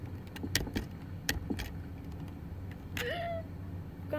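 A truck engine in Garry's Mod rumbles low and quietly, with scattered clicks, rattles and a brief rising chirp over it.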